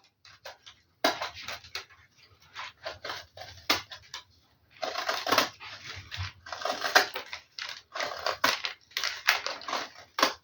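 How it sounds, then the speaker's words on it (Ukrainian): Ordinary scissors snip around the edges of a dry, crisp meringue cake layer, giving a run of close, crunchy cuts and crackles in irregular bursts with short pauses between them. "Те, що зайве, друзі, я зараз буду обстригати, обрізати ножицями."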